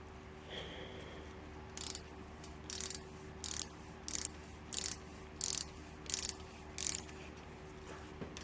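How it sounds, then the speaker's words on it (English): A screwdriver works a screw loose on a Minnesota "L" sewing machine being taken apart for restoration. It makes a series of about eight evenly spaced, sharp ratcheting bursts over a quiet steady hum, with no talking. "let me get a screwdriver, and we'll get this one loosened"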